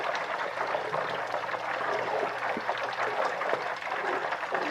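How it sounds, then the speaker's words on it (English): Butter simmering into ghee gives off a fine, dense crackle of hundreds of tiny bubbles, a steady close-up fizz with no talk over it. "the bubbles will begin to look normal for boiling stuff and sound different"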